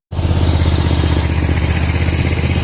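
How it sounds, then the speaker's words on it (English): A lawn mower running along the edge of a four-lane road, a steady loud engine drone with a throbbing low rumble that starts abruptly and holds close throughout, no talk. "out here we're mowing right on the 4 lane"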